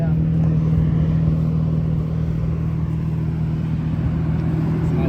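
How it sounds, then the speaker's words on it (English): An Audi S4 B5 idles and is revved a couple of times close by, a steady deep engine rumble that stays loud throughout the short take. "I'll give you a couple revs for you."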